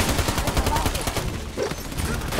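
Gunfire in the video game Army of Two: The Devil's Cartel, rapid bursts of automatic shots in quick succession, with game voices heard over the shooting.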